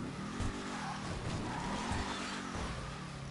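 A Declasse Tahoma Coupe in GTA V Online launches hard for a wheelie, its engine roaring loud and close with tires squealing throughout, alone without talk.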